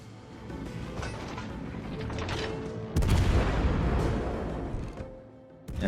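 Heavy naval guns of the cruiser Salem fire at the enemy cruiser Hipper in a World of Warships: Legends battle. Rumbling mechanical noise builds into one loud, booming salvo midway, which then rolls off.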